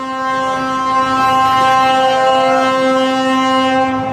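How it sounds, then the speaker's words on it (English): A train passes near a lakeshore in Jim Thorpe, Pennsylvania. Its horn blares long, loud, and steady, with strong sustained tones that hold for the whole stretch, and a low rumble runs beneath it. "don't tell that train to be quiet."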